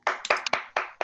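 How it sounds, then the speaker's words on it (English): A few people in an audience at a comedy show give a brief burst of sparse clapping, about six close, sharp claps over roughly one second. "Clap it up for that"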